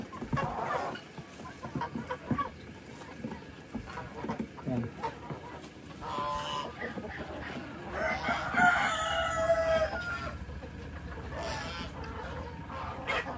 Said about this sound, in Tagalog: dinaanan ko muna yung mga alaga natin manok